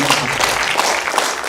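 Audience applause rings out at the close of a climate-crisis forum debate in Korea, a dense, steady patter of many hands clapping indoors for its full length.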